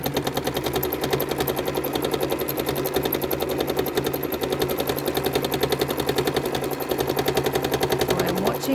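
A home sewing machine stitching repeating curved quilting lines, its needle drive running in a fast steady rhythmic clatter throughout, close and continuous.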